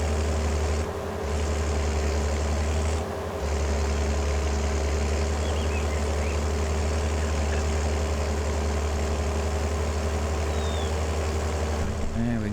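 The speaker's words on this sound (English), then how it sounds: "it seems to be very loud, this tractor" A heavy, beefy tractor in Farming Simulator 22 works a cow pasture, its loud engine droning steadily and close with two brief dips early on, running alone without talk.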